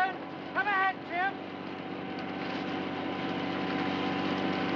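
Wind fans blow on a film set where snow effects are running. A steady, close rushing roar builds gradually and holds, with a brief whining tone near the start.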